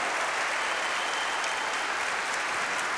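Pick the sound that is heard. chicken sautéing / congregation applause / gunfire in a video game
congregation applause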